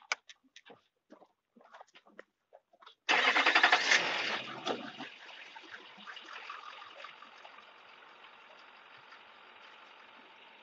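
A car pulling forward a short distance in snow onto tire chains, starting with a few clicks and taps, then a sudden engine surge that settles into a steady, fading rumble.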